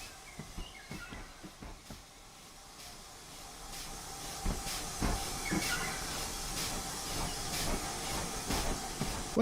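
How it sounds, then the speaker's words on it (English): A small locomotive in the TSC train simulator pulls away past the points at Malmsbury, rhythmic clanks and clicks of wheels over track over a faint hiss, quiet at first and building slightly. "Off you go, little locomotive."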